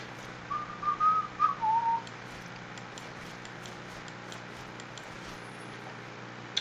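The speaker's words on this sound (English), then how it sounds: "I'm sorry, I shouldn't whistle, because it pisses me off when people whistle when I'm watching a video." A short whistled melody, a few rising and falling notes over about a second and a half, played by one person in a quiet room while drafting Theros cards, then fading into low steady background hiss.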